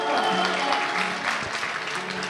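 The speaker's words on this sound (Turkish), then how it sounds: "Bir de alkışlar alalım" Wedding guests clap at a henna night celebration, a steady broadband patter of applause with music tones underneath, fairly loud and continuous throughout.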